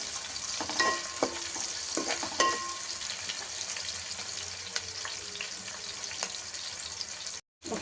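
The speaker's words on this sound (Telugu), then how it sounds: "ఒక క్యాప్సికమ్ చిన్న క్యాప్సికమ్ తీసుకున్నా దీన్ని కూడా మనం ఫ్రై అవ్వాలి" Capsicum and onions frying in a pan for veg manchurian, a steady sizzle with occasional stirring clinks and scrapes, close and continuous with no voices.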